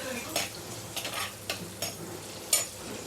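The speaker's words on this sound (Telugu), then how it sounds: "ఆనియన్స్ వేసుకున్నాను. ఇది కొంచెం బాగా ఫ్రై అవ్వాలి." Onions frying in a clay pot, a steady soft sizzle with several sharp scrapes and taps of a spoon stirring against the pot, close and fairly quiet.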